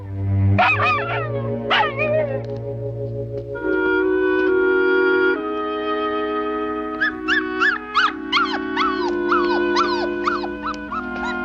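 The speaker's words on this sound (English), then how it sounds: "All puppies carry on the first night in a new place." A puppy on its first night in a new place cries alone, with long whimpering howls and then a run of rising, quavering yelps, close and loud.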